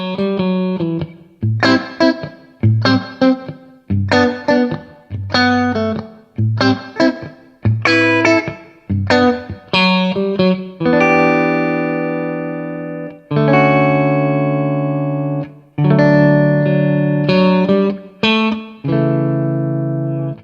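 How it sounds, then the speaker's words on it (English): Electric guitar through the Clarity clean amp model, an original solid-state design for pristine clean tone at any volume, playing loud, fairly dry chords and single notes in a rhythmic strummed pattern that opens into longer ringing sustained chords. "it's Clean, which is an original amp design called Clarity. Now this is for a pristine clean tone at all volumes."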